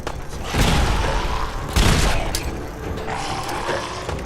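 Grenades tossed and exploding during a Fallout 4 firefight, two heavy booming blasts about a second apart with rumbling debris and lingering combat noise between them, loud and close.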